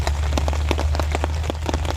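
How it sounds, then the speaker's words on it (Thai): Rain falling at a fishing spot in Sam Phran, heard as steady, close pattering of drops on surfaces, with a constant low hum underneath. "ฝนตกอีกแล้วครับ"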